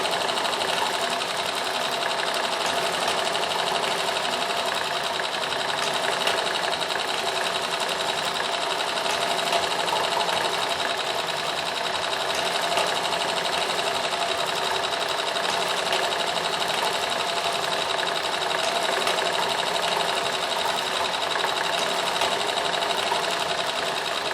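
A Singer 201K sewing machine stitching fabric for a cravat and pocket kerchief, running in a steady, continuous whir close by with no pauses and no talking.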